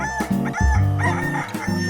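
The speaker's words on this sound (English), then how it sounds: "the cockerel cock-a-doodle-dooed" A single rooster lets out a loud, close cock-a-doodle-doo crow lasting about two seconds, heard alone with no other sounds.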